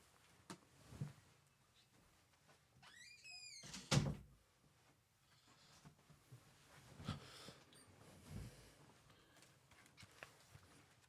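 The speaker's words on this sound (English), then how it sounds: "Hold on, I gotta close my door." An indoor room door pulled shut, one fairly loud close thud with a short rattle before it, then quiet room noise with faint scattered knocks.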